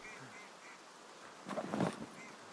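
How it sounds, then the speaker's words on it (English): Ducks quack faintly in the distance as ambient sound in the video game Escape From Tarkov, a short burst of a few calls over quiet background hiss. "I keep hearing these ducks."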